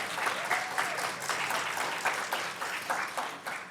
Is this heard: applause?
yes